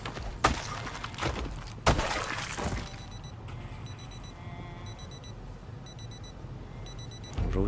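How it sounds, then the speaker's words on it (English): A digital wristwatch alarm in the Project Zomboid video game beeps in short repeated bursts at a steady rhythm, faint and high, after two sharp impacts at the start, over low background rumble. "Watch alarm, we'll get that turned off immediately."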